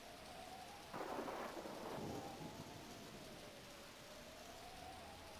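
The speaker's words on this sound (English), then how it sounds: "A stormy night at Sharpedo Bluff." A thunderclap bursts about a second in over steady falling rain at Sharpedo Bluff in Pokémon Mystery Dungeon, then rumbles away while the rain continues and a quiet musical tone lingers.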